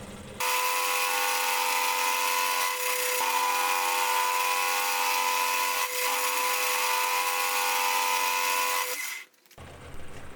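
A lathe cuts a 20-degree taper on the end of a metal bar, giving a steady, high-pitched whirring scrape that holds for about nine seconds before stopping abruptly, with no talking.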